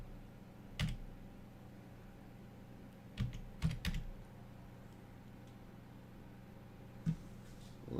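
Keys on a computer keyboard tapped in a few short bursts during a live stream, with soft clicks spaced apart over a steady low room hum and no talking.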